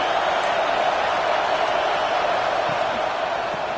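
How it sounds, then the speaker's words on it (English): A packed stadium crowd at a college football game, Washington at Michigan, roars and cheers as a loud, continuous wash of noise with no break. "It's early, but this crowd is fired up. Listen to this noise here."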